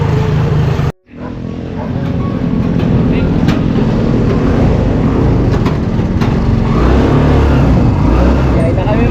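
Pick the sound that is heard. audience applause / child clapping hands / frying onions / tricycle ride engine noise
tricycle ride engine noise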